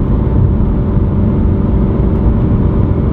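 Decatted BMW M3 engine drone heard from inside the car while cruising at 70 mph, a steady, loud low-pitched hum with road noise and no change in pitch.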